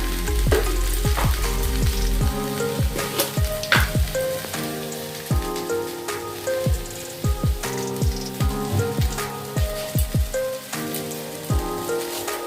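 Navratan pulao frying and sizzling in a pan on the stove, a steady bright crackle under a run of quick clicking strikes as it is stirred, close and loud, with no voices.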